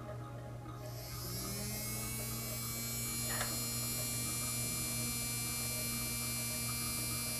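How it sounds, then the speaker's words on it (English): A small rewound DC motor with ten turns of 22 gauge wire spinning up to high speed, a steady whining hum that rises in pitch over the first second and then holds constant, close and fairly quiet. "Finally, I have the motor that I just wound with just 10 turns of 22 gauge wire. Crank that one up."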